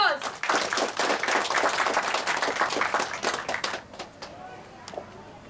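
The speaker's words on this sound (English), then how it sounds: "So give them a big round of applause." An audience applauds after a drama performance, with dense, steady clapping for several seconds that thins out into a few scattered claps at the end.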